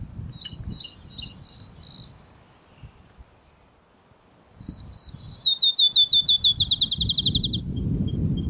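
Scattered chirps give way to a field sparrow's song of clear whistled notes that speed up into a rapid trill, fairly close, with low rumbling background noise.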